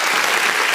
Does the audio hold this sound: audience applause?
yes